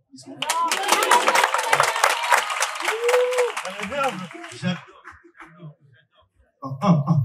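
A burst of dense audience applause at a comedy show, loud and sustained for a few seconds before thinning out, with voices speaking over and after it.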